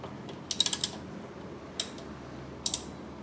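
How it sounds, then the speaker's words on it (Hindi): Wrench ratcheting on a Honda H'ness CB350 motorcycle while the brake caliper mount bolts come off, heard as a short burst of quick metallic clicks followed by two more isolated bursts, close and fairly quiet. "तो पहले जो ब्रेक का माउंट है वो हम खोलेंगे।"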